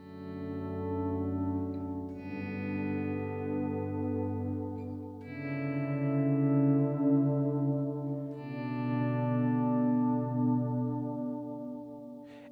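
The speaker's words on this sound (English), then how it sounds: "I'm going to pluck some strings, and then I'm going to fade in the volume pedal" Clean guitar notes swell in gently and sustain, echoing through a warm delay in slow overlapping waves, with no voices.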